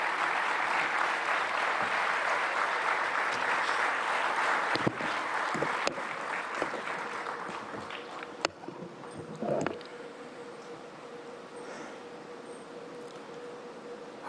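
Sustained audience applause in a large hall at the NDTV World Summit 2025 as Prime Minister Narendra Modi is welcomed, a dense wash of clapping that gradually thins and fades toward the end.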